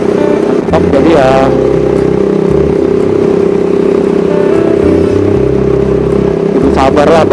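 Cruiser touring motorcycle engine running steadily while riding, a constant loud drone with a few faint shifts in pitch, partly under a voice talking.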